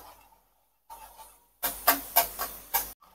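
Finely chopped onion frying in hot butter for pav bhaji gives off loud, close bursts of sizzling hiss, several sharp surges in quick succession after a quieter stretch and a brief silence.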